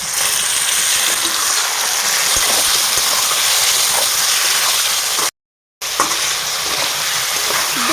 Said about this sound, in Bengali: পেঁয়াজটা ভালোভাবে এইভাবে ভাজা হয়ে গেছে। এবার দিয়ে দেব মশলা মাখিয়ে রেখেছি সেই মাংস